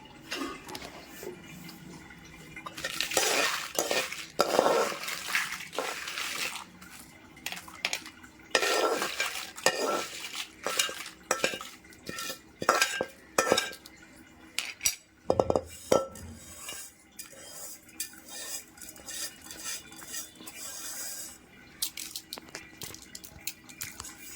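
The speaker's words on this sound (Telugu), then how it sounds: "ఎండుమిర్చి చేసుకుందాం రోట్లో" Dried red chillies for coconut chutney are pounded and ground in a stone mortar, making irregular bursts of hard scraping and knocking strokes, some loud and close, separated by quieter pauses.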